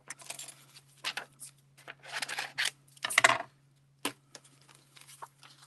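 Scissors snip through a die-cut card piece in short bursts of cutting and paper rustle, close and fairly quiet, with brief pauses between cuts.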